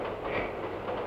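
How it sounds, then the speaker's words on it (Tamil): A train rolls along its rails with a steady, loud rumble and rhythmic clickety-clack, heard up close and without voices. "இந்த ரயில் சத்தத்துல கூட இனிமையான தாளம் இருக்கு"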